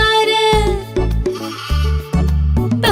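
A goat kid bleats in quavering cries set against the music of a Marathi children's song, with several short, loud calls in close succession.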